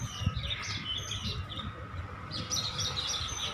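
Small birds chirp and tweet overhead outdoors near an elementary school, repeated high calls at moderate distance over steady background ambience.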